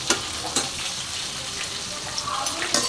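Katla fish head frying in a pan of hot oil, a steady loud sizzle with sharp spattering crackles and pops, close up and with no voices.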